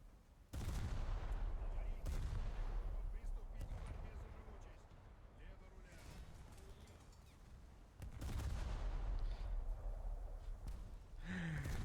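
Ship's gun firing shells in a naval video game, two heavy booming blasts several seconds apart, each followed by a long rumbling decay, loud and close, with a voice briefly audible.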